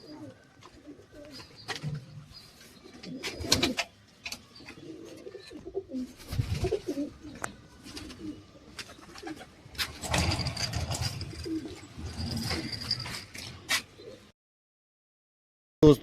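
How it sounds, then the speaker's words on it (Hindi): Pigeons coo softly in a loft, low throaty calls repeating irregularly alongside rustling, wing flutters and a few sharp knocks, fairly close but quiet. "ये हमारे प्यारी भाई के कबूतर"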